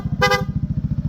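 A Honda PCX160 scooter's horn gives one short, loud honk of about a quarter second over the idling engine's rapid, even putter, which continues alone afterward.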